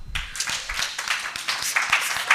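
Audience applause for a speaker at an animal welfare training seminar, a steady burst of many hands clapping throughout, moderately loud and close, with no talk over it.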